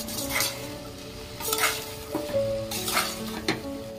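Vegetables with turmeric, salt and chilli being stirred in a pan for a pulao, a soft frying hiss broken by a few distinct scrapes and clinks of a spoon against the metal, close and without speech.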